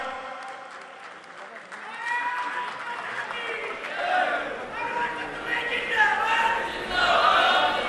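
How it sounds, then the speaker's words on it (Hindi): An audience at a political party gathering applauds to welcome a women's wing vice-president, the clapping and crowd noise building in waves under a speaker's voice. "जोरदार तालियों से स्वागत।"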